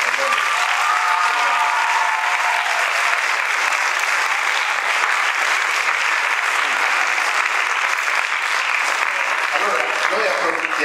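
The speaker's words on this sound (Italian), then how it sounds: "un ulteriore bel applauso forte per Riccardo Pagoni" Sustained, dense audience applause during an Italian opera-themed cultural event, steady and loud throughout with a faint murmur of voices near the start.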